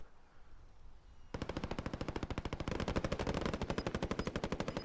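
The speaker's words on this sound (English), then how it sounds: "See a little gunfight down there" Call of Duty Warzone gunfight: sustained automatic gunfire erupts after a quiet second and hammers on in a fast, steady rhythm, loud and close, with no talking.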